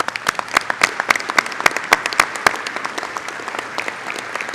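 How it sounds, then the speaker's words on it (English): An audience claps for honorary ALPA members, a lively burst of many individual hand claps, crisp and close, swelling then gradually thinning out toward the end. "one more big round of applause, please, for all the honorary members"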